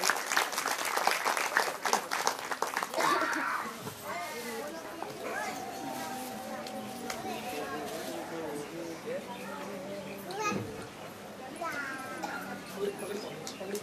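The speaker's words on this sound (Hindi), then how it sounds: "जोरदार तालियों से अभिनंदन करें।" Lively applause welcoming guests at a Shrimad Bhagwat Katha gathering in Delhi fills the first few seconds, then fades under chatter, voices and scattered crowd noise.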